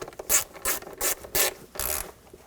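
Ratchet tightening a bolt on the 3.0L inline-six engine of a 2000-2006 BMW X5 while a camshaft position sensor is replaced, giving about five short bursts of clicking at a steady pace, close by with no talk.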